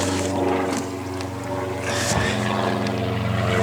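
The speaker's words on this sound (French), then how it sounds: "Je suis étonné à quel point il tourne bien ce moteur." A refurbished Wolf PM-Quantum 35 lawn mower engine runs steadily close by, a loud, even mechanical drone with a brief dip and wobble in pitch partway through before settling back.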